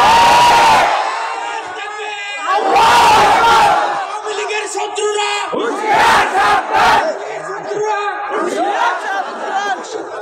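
A large crowd shouts slogans in loud bursts of massed voices, with chatter and shouting between the chants at an outdoor religious gathering.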